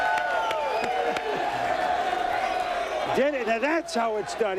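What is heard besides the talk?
draft day crowd cheering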